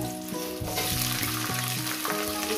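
Mixed vegetables including sweet potato, red potato and regular potato fry in a pan for a poppy-seed posto dish, a steady close sizzle running throughout, with background music playing over it and no talk.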